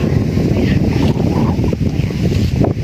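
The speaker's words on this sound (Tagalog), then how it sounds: "Lakas ng hangin." Strong wind buffets the microphone outdoors near a forest, a loud continuous roaring rush with gusty swells and no pauses.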